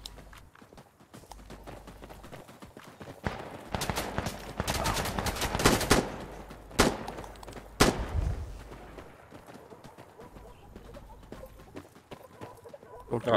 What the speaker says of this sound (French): Ça tire, fais gaffe.